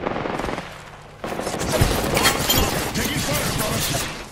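Rapid automatic gunfire in the battle royale shooter Apex Legends, a dense, loud burst that starts abruptly after a short lull, with a voice speaking briefly.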